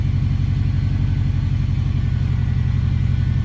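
A 2002–2007 Subaru WRX with an EJ20 engine idles after its idle air control valve was cleaned, a steady low rumbling burble heard up close with an even pulse and no surging.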